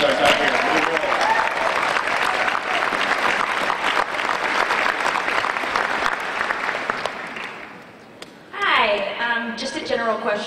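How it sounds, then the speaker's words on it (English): A ComicCon panel audience breaks into loud, sustained applause and cheering that fills most of the clip, then fades, and a voice begins speaking near the end. "give Rami a hand of applause"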